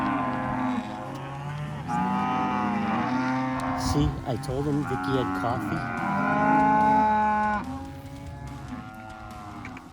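Cattle moo repeatedly in a Florida pasture, loud drawn-out bellowing calls from several animals overlapping near and far, with a vehicle engine and a man's speech audible underneath.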